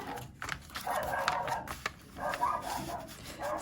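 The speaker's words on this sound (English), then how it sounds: "Sorry, my dog is going nuts." A dog barks and yips in short uneven bursts indoors, moderately loud and close, with some whining between the barks.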